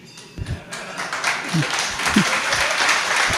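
Audience members at a spiritual discourse clap, a scattered start building into steady applause, with a voice briefly heard beneath it.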